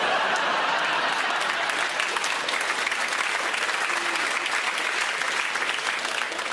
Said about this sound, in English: You know why you're clapping, right?